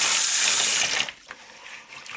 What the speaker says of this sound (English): Rinse it out. Add more cold water.